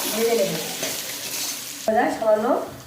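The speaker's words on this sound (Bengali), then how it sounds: "আলুটা একটু ভালো করে ভেজে নিতে হবে" Potatoes fry in a pan for chowmein, a steady sizzle running throughout with a stirring scrape joining near the end, close and fairly loud.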